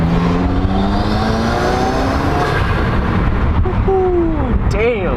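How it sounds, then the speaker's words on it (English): Turbocharged 2018 Subaru WRX fitted with a Mishimoto intake, engine pulling under acceleration with a rising whine as the turbo spools, ending in a short whooshing release, loud and close inside the car. "You guys can obviously hear that turbo spooling"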